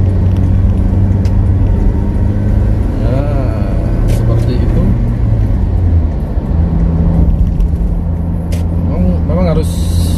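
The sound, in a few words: car overtaking on the Lumajang–Probolinggo road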